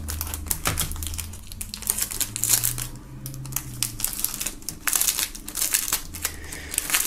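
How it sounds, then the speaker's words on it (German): Plastic shrink-wrap film crinkles and tears close up as it is pulled off album packaging, with irregular crackling rustles and sharp snaps throughout and no talking. "nachdem hier die Instrumentals und auch das Album noch in Folie sind, werden wir das Ganze mal aus der Folie holen"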